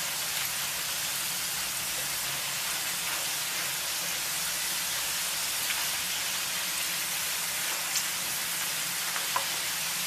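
Potato chips frying in a pan of hot oil, giving a steady, fine hissing sizzle that stays even and moderately quiet throughout, with faint occasional pops and no talk.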